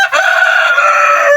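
A hen with newly hatched chicks gives one loud, close, drawn-out fowl call lasting over a second, with no talk.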